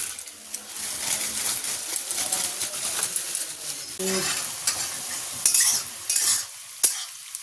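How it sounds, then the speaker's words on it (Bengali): Potatoes frying in hot oil with continuous crackling sizzle, and a spatula scraping and clinking against the pan as they are stirred, moderately near with no talk. "সুন্দর আলু ভাজা রেডি হচ্ছে, আর একটু লাল হবে"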